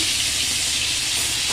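Shrimp frying in a pan give off a loud, unbroken sizzle and hiss, close up and steady throughout, with no voices.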